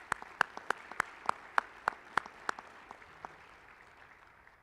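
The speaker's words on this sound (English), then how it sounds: "Let's give this group a round of applause." Scattered hand claps ring out at a steady pace at an awards ceremony, maybe a dozen sharp claps from a small group, thinning and fading toward the end.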